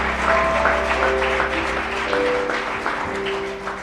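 A congregation claps during a church worship service, with sustained, dense applause over steady tonal music or held voices, loud and filling the room.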